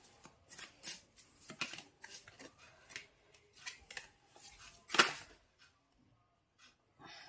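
Tarot cards are shuffled and drawn by hand, giving quiet, close crisp snaps and papery riffles in irregular bursts, with short pauses between them.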